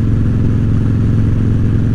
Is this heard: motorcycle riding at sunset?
yes